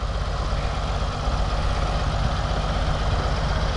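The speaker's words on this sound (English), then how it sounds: "Show me another 54 horsepower tractor that'll do that" An Oliver 1550 tractor of about 54 horsepower pulls a disk through a field, its engine a loud, steady, continuous diesel drone with no talk.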